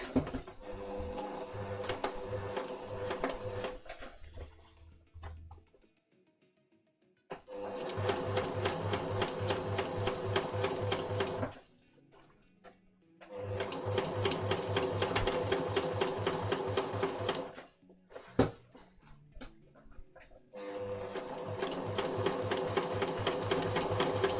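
Sewing machine stitching a Gryffindor-style kid's jacket, running in four long steady bursts separated by short quiet pauses and small handling noises, at moderate level.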